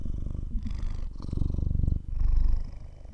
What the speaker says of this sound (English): Can you guys hear him purr?